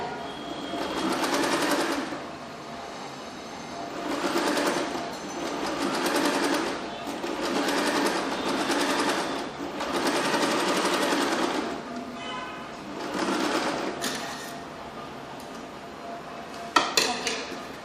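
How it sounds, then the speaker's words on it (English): A sewing machine stitching along the edge of fabric runs in repeated bursts of fast mechanical whirring, each lasting a second or two with short pauses between, close and clear, ending with a few small clicks. "while stitching, make sure that you are giving the stitch at the edge of the fabric"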